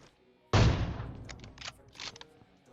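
Kar98 sniper rifle fire in PUBG: one sudden loud shot with a decaying tail, then several fainter cracks and bursts over the next couple of seconds.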